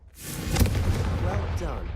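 A Confringo fire spell erupts in Hogwarts Legacy, a close, heavy blast that swells into a sustained roaring rumble over about two seconds, with a voice briefly audible.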